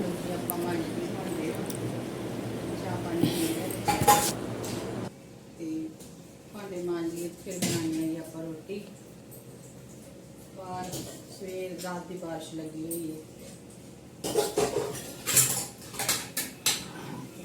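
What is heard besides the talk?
washing dishes, clinking pots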